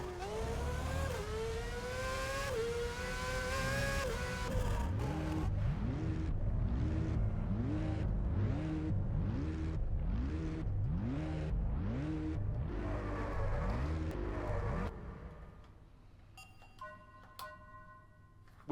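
Formula 1 car engine from the video game F1 06 howling through a flying lap, a long sustained high-revving note with rapid repeated gear-shift sweeps mid-lap, then cutting off to near silence with faint electronic tones at the end.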